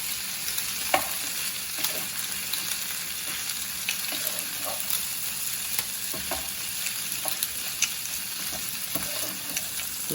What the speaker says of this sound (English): Add those and go ahead and give it a stir.